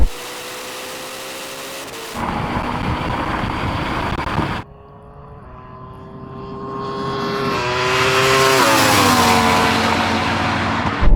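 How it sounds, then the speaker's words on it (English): A Ferrari SF90 supercar in a drag race against a Yamaha R1M and Porsche Taycan Turbo GT roars loudly nearby, a steady engine drone breaking off and then a rising, whining engine note climbing and holding. "That Ferrari just came past me."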